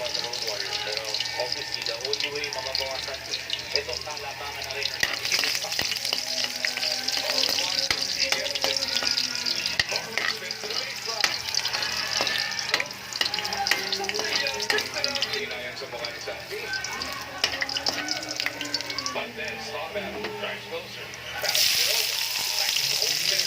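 Garlic frying in a pan for pancit kabagan, a steady crackling sizzle that runs continuously with spoken voices over it.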